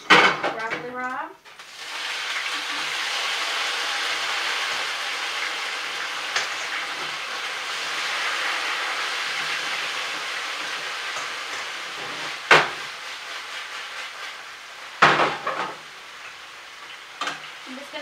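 Broccoli rabe hits a pan of garlic and extra virgin olive oil with a burst of clatter, then settles into a steady loud sizzle broken by a few scraping, clanking tosses.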